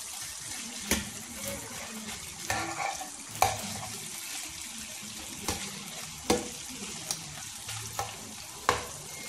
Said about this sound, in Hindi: नाजिया अब इसको मैं पलटूँगी ताकि अच्छे से अंडे भी अच्छी तरह से घी के अंदर रोस्ट हो जाए